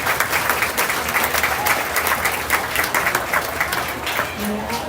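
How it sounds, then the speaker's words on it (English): A crowd at a county fair junior swine show for market hogs claps steadily, sustained applause filling the space with a faint voice briefly audible near the end. "Let's give them a nice big round of applause,"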